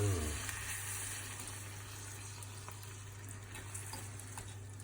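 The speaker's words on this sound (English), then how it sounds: "So, how long have you fried that for?" Frittata mixture of eight eggs with parmesan, pepper and goat's cheese frying in a pan gives a soft, steady sizzle throughout, fairly faint and alone.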